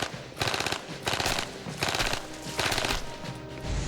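A Thompson submachine gun chambered for the 1911 pistol round, firing fully automatic in several loud, rapid bursts separated by short pauses.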